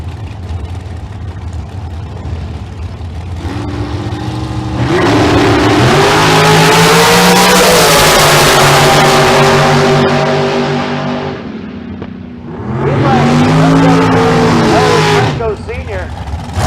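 A bright green drag racing car launches at Famoso Dragstrip during a bracket race, its engine swelling into a loud, near roar, easing off, then surging again, while a race announcer talks over it.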